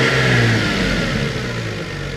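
An old car's engine revs hard under the throttle during an alternator check, a loud, steady roar that eases slightly toward the end.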